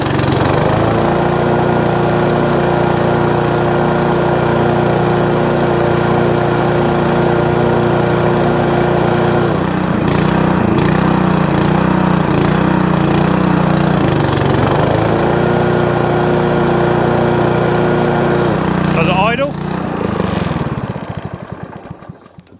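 A barn-find lawn mower engine, stored for five years and reluctant to idle, runs steadily and loudly with a rough, uneven drone up close for about twenty seconds before cutting out.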